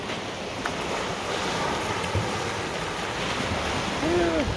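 Sea waves wash steadily onto an empty beach of clear, calm water in the early morning, a continuous near rush of surf with light wind noise and no voices.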